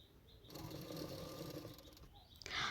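A sewing machine runs steadily for about two seconds, stitching lining fabric to the main fabric of an anarkali frock, a close whirring hum with a brief stop and restart, no talking.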